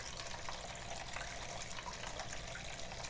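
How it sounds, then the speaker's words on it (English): Water is poured out toward a bee, a soft, continuous trickling splash that stays faint and close with no pauses or talk over it. "Trying to get some water towards him here."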